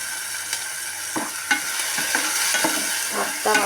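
Tomato puree and ginger garlic paste fry and get stirred in a pan, a continuous close sizzle with regular scraping strokes of a spatula every half second or so.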